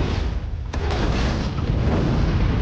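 A huge explosion in an action movie scene on a cruise ship sends out a loud rumbling blast with a sharp crack partway through, then sustained roaring debris and low booming that fill the whole stretch.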